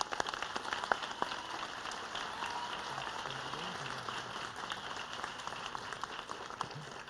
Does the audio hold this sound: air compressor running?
no